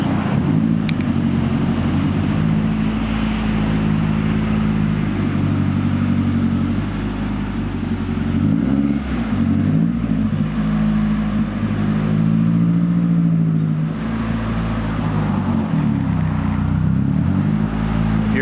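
Mazdaspeed3 with a race clutch backing up, a loud continuous engine drone with low rumbling tones that dip and rise briefly as the car moves, steady throughout.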